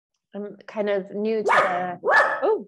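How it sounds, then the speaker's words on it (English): A dog barks and yips several times in quick succession close to the microphone during an indoor video chat, the barks cutting in over a woman's speech. "that's my dog."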